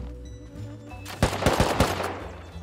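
Gunfire in the survival game Rust: a quiet ambient bed, then a rapid cluster of sharp shots in quick succession, several loud cracks close together, with no talk over them.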